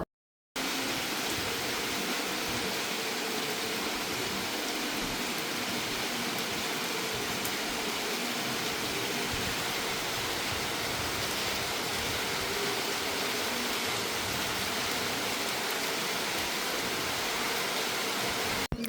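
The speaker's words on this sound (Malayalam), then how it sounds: "എനിക്ക് നല്ല മഴയായിരുന്നു കേട്ടോ" Heavy rain falling outdoors, a dense, steady hiss that continues evenly throughout with no pauses and no talking.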